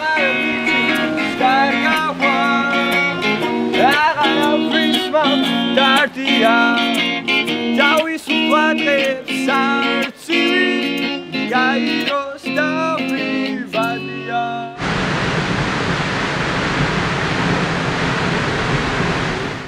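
Music plays for most of the stretch, then cuts to the steady, loud broadband rush of a waterfall in Tbilisi for the last few seconds.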